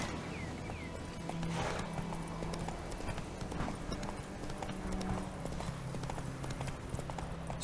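Roach the horse's hooves clip-clop at a steady walking rhythm in The Witcher 3, moderately close and fairly constant, with a brief whinny-like sound and little talk.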